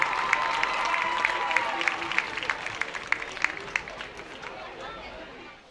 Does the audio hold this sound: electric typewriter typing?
no